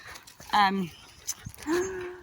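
A puppy whimpers in short, high-pitched bursts and pants softly outdoors near a farm round pen, with a person talking nearby.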